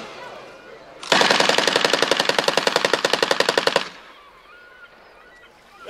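A Thompson submachine gun fires a single sustained burst of about thirty rounds outdoors, a rapid, loud, evenly spaced rattle lasting under three seconds and then cutting off into quiet.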